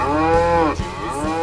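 A cow moos in a video game, one long loud bellow with rich harmonics, followed by a few quieter low thuds.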